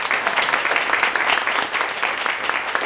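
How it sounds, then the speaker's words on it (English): A room full of people applauds a distinguished alumnus at a panel event, with brisk, dense, continuous clapping that stays close and fairly loud throughout and carries no speech. "Let's give him a round of applause."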